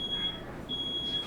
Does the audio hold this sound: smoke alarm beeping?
yes